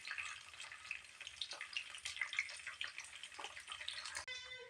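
Peanuts, two dried red chillies, curry leaves and a pinch of asafoetida frying in hot tempering oil, a steady crackling sizzle with scattered pops, fairly faint and close, with no talk.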